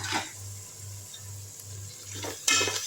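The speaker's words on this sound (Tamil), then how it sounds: "எல்லாம் சேர்த்து நல்லா வதக்கி விட்டுருவோம்" Ground paste and other ingredients for chicken biryani are sautéed in a pan with a faint sizzle over a low hum, then a few louder scraping bursts as the mixture is stirred.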